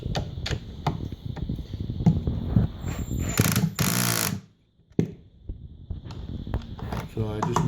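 Furniture assembly with a driver bit, showing a power driver tightening screws in short whirring bursts and clicks, with one longer loud run and a brief silence, mixed with handling noises.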